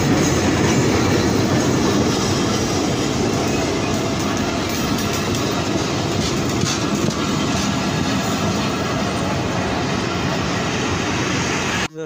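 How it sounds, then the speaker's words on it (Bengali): The Nakshi Kantha train arrives at a station behind its locomotive: a loud, continuous rumble of rolling railcars with rhythmic clickety-clack of wheels on track and faint wheel squeal, steady until the final moment. "এখন ট্রেনটি এসে গেছে, এই যে লোকোমোটিভ"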